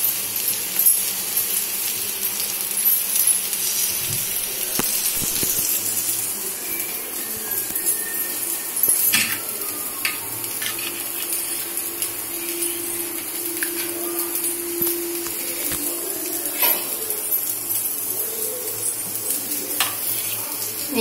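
Rice flour dough frying in plenty of oil gives a steady, continuous hiss and crackle, close and even throughout, with occasional light clinks and no talk.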